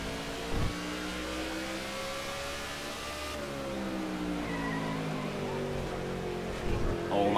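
Stock car engines drone and whine through a race at Martinsville in NASCAR The Game: Inside Line, a sustained rising and falling engine pitch with gear shifts and a few thumps, heard steadily throughout at moderate loudness.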